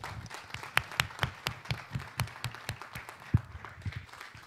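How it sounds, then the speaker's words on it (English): A congregation applauds Pastor Melly during a Mother's Day church service, with moderate, fairly thin clapping from a modest crowd in a hall. A few louder individual claps stand out above the steady patter. "Give her a round of applause."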